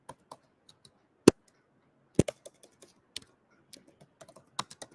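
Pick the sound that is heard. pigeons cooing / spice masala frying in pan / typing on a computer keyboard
typing on a computer keyboard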